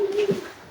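A pigeon or dove gives a short, soft low coo, close by and brief, in an outdoor setting in Phalombe, Malawi, with no speech over it.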